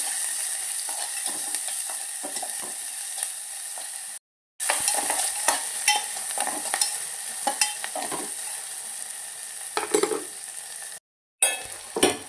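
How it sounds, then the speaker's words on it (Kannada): Fenugreek leaves frying in a pan, a bright steady sizzle with scraping stirs and small utensil clinks, broken by two brief silent gaps. "ಸ್ವಲ್ಪ ಹೊತ್ತು ಫ್ರೈ ಆದಮೇಲೆ ಮೆಂತ್ಯ ಸೊಪ್ಪು ಹಾಕ್ಕೊಂಡಾಯ್ತು"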